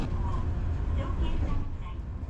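A 9700-series low-floor tram of the Kumamoto city tramway departs Kumamoto Station with a low rumble, steady droning hum and faint squeals, recorded from inside, with some murmured voices mixed in.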